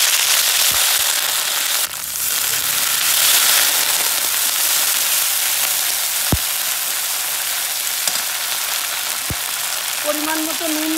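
Ginger dropped into hot oil for Bengali sukto, with a loud, steady broadband sizzle filling the whole stretch and a few sharp pops and spatters crackling over it; no one speaks.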